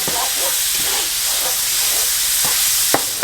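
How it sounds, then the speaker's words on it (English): Browned ground beef for cheesy taquitos being stirred in a pan, with a steady sizzling hiss and a few scraping clacks of the utensil, one sharper knock near the end, no talking. "we've got some nice brown caramelization on the bottom, so I am going to give this a good mix now"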